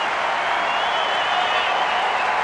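Dense, steady roar of a large baseball crowd cheering at a Yankees vs Indians game, fans on their feet, a continuous loud wash of voices and scattered applause with no single voice standing out.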